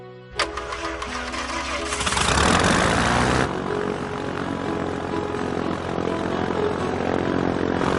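Piper Cherokee single-engine propeller plane revving up as it prepares for takeoff, a loud steady drone that swells and holds, close to the listener.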